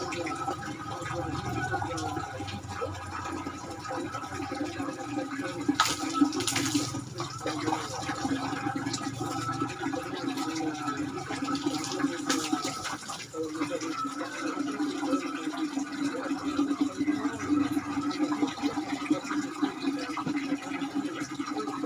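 Cold water splashes and pours steadily close by as someone bathes, a continuous wet sloshing with faint talk underneath.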